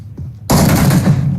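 Sustained burst of rapid automatic gunfire in a battle royale shooter game, bursting in loud and close after a quiet start and rattling on without a break.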